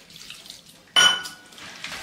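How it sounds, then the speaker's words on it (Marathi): Water is poured into rava pancake batter in a bowl: a short, sudden splash with a faint clink, then a soft trickle, set against quiet kitchen background. "मी ह्याच्यामध्ये अजून थोडंसं पाणी घालून घेते"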